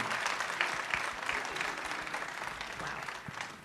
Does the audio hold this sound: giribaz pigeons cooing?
no